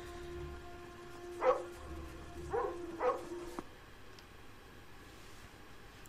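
Three short dog barks in Lost: Via Domus, fairly close and moderate in volume, spaced about a second apart over a soft hum and low rumble.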